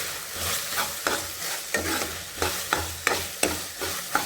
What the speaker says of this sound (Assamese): অকণমান লৰাই লৈছোঁ